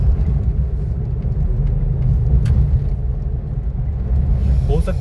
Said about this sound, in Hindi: देखिए गाड़ी किस तरह ओवरटेक करके निकली है यहाँ से